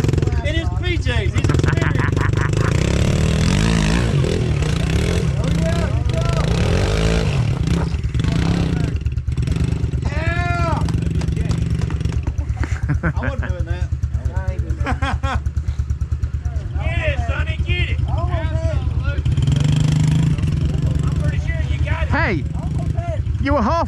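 Honda pit bike engine revving loudly and steadily close by, a rough mechanical drone with rising and falling pitch, with people talking over it.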